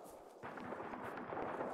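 Distant gunfire and artillery-like booms rumble through a military video game battle, a dense, continuous low crackle of shots rolling in from afar after a quiet opening moment.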